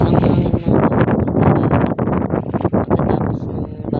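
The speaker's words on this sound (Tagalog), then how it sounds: "Malakas ang hangin na" Strong, gusty southwest monsoon wind after a typhoon roars and buffets the microphone continuously, a loud rushing noise with no pauses throughout.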